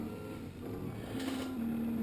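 A Prusa RepRap i3 3D printer running a large print, with close stepper-motor whirring and a steady electric drone that shifts pitch as the moves change.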